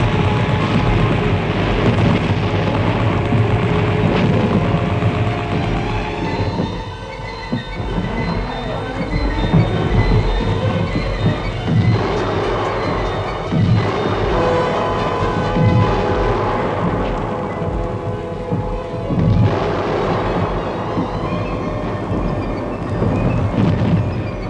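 A World War I artillery barrage rumbles on without pause, a dense roar of booms and low thunder holding loud from start to finish.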